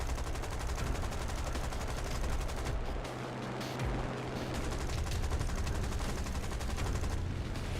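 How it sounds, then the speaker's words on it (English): Rapid, continuous bursts of aircraft cannon fire in the video game War Thunder, mixed with a droning engine, dense and relentless with a brief lull in the middle. "I'm taking these long range shots, hoping that my cannons might actually hit him."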